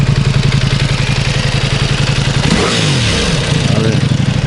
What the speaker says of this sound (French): je vais tout de suite faire gueuler un peu le moteur.